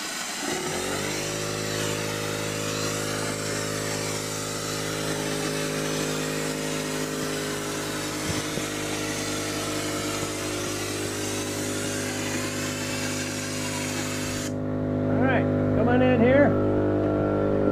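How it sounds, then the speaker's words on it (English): A hopper gun fed by an air compressor hose sprays faux rock texture coating at full power, a loud steady mechanical roar that runs almost the whole time, then cuts off near the end to leave a lower engine hum. "Got your hose hooked up to a hopper. And I have full force, full power blowing this stuff on."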